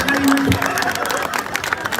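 Audience clapping at a Kapampangan comedy show, steady clustered applause mixed with crowd noise and cheering, with voices talking throughout.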